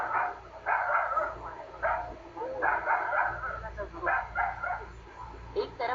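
A street dog barks repeatedly at a leopard trapped 25 feet down an abandoned well, a series of rough, echoing bursts mixed with a voice talking over them.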